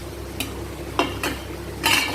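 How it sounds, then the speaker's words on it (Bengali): Fried potatoes going into a pan of curry being cooked down, with a few scattered clinks and scrapes of a spoon against the pan over a low steady background, faint and close. "এবার এই আলু ভাজাগুলো দিয়ে দেবো।"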